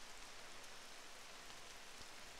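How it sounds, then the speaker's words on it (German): In the video game SCUM, rain pours down as a steady, dense hiss of falling drops, even and continuous throughout, with no voices over it. "Jetzt regnet es natürlich noch"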